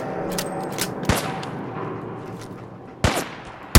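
Sparse gunshots in the video game Fallout 4: two or three sharp, loud cracks spaced about two seconds apart over a low background hum, with no talking.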